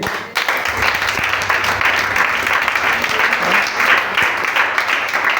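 A church congregation at a youth seminar applauds: dense, continuous clapping from many hands, loud and close, holding steady throughout.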